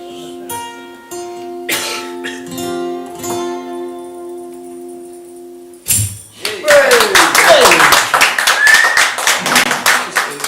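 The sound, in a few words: audience slow clapping after a song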